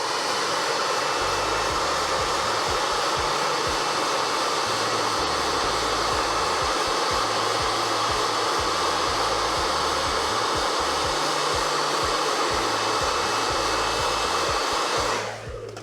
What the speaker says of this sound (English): Who would have thought that a blow dryer was such a convenient tool?